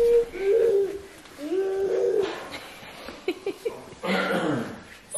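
Cedar waxwings and robins call outdoors on a snowy day, a few clear, fairly close chirps and short whistled phrases coming in separate bursts.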